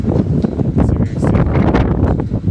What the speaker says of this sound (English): I hope the wind's not messing with the audio.